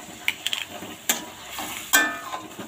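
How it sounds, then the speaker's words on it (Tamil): Fenugreek greens masala sautéing in a pan, with a low steady sizzle and a few sharp scrapes and clacks from a spatula stirring it, close up and with no one speaking. "இப்போ நல்லா வதக்கிக்கலாம்."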